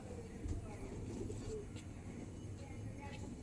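Golden Kasuri pigeons with Kashmir-coloured tails coo softly, their low calls half-buried in a steady wash of background noise.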